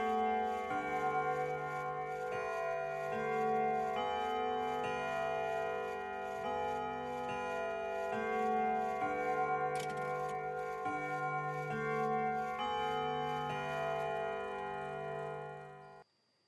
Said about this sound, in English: as the 1 o'clock chimes were struck.